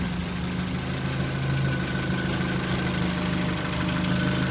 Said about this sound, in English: And look at the engine,